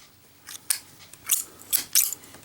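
Zippo lighter with a two-piece dragon plaque, its lid flipping open and the wheel struck, a few sharp, crisp metallic clicks and a scrape, muted and close with quiet gaps.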